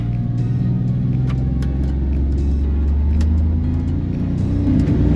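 A 2026 Can-Am Defender HD 11 UTV engine runs at about 4,000 RPM in high gear, a loud continuous droning rumble that holds throughout with slight rises in pitch.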